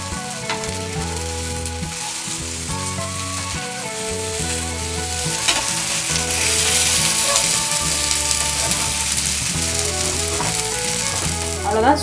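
Rice cutlets fry on a dosa griddle over low heat with a loud, continuous sizzle and occasional scraping as they are turned. The sizzle grows a little louder midway and stays close, with no voices.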